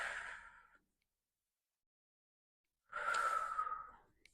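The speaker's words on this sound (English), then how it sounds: "Breathing in through the nose, out through the mouth." Pilates workout breathing: a long audible breath at the start, a pause of silence, then another strong exhale through the mouth, close and clear with no talking.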